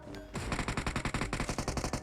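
Video game gunfire: a rapid, evenly spaced burst of automatic shots, loud and close, rattling steadily for about two seconds with no voices.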